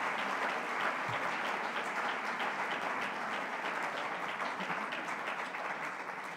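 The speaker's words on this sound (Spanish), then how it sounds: "les voy a pedir un, un gran aplauso para Estrella" Sustained applause from a large gala audience, dense and steady throughout with no pauses, filling the room evenly.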